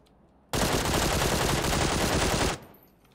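A sustained burst of automatic gunfire in the PUBG video game, loud and steady for about two seconds and then cutting off abruptly, with quiet game ambience before and after.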